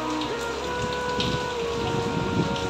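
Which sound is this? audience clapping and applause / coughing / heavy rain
heavy rain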